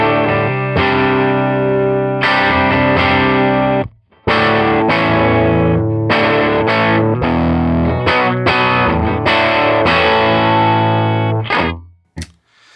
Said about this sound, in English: this is what the guitar sounds like through the amplifier, just with no Tube Screamer turned on at all